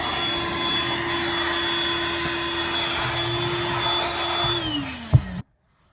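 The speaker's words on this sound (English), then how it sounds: "Let me get the vacuum. Let me clean all this mess up." A vacuum cleaner sucks up sawdust inside an RV during a Starlink install, giving a loud, steady motor whine with a constant pitch that winds down and cuts off abruptly near the end.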